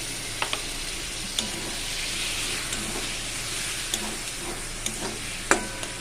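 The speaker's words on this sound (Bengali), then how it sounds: "আমি মশলাটাকে ভালো করে কষিয়ে নেব যতক্ষণ না তেল ছাড়ে" Spice paste (masala) being stirred and fried in oil with a splash of water added, making a continuous close hissing sizzle broken by sharp clicks and scrapes of the spoon against the pan.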